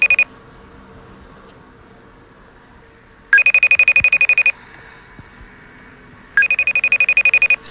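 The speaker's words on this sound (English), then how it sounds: "There's a FaceTime. So we're going to click it and let's see what happens, basically. Okay. It's ringing." A FaceTime video call ringing: an electronic trill in two bursts about three seconds apart, each a rapid pulsing tone over a quiet background hum.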